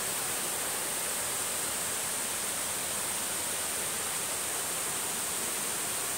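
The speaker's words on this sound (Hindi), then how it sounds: "बारिश बहुत अच्छा हो रहा है" Heavy rain pours down steadily in an even, dense hiss with no breaks, fairly soft and continuous from start to finish.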